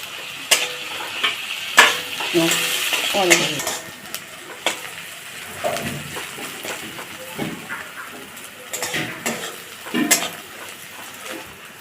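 Chopped onion and green chillies sizzling in a pan for a Bengali fish curry, with steady frying crackle broken by repeated scrapes and clinks of a spatula stirring against the metal.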